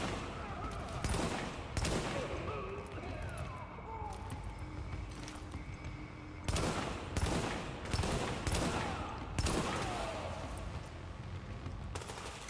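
Repeated gunfire bursts from a firefight in Tom Clancy's The Division, loud and frequent over constant background game noise, with talking running underneath through the stretch.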